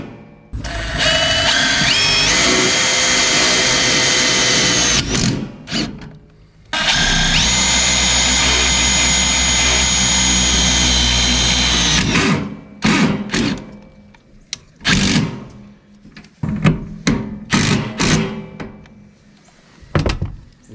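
Power drill driving pole barn screws into a metal chimney bracket for a DuraPlus wood stove chimney, two long steady whirring runs followed by a string of short taps and bursts, loud and close with no talk.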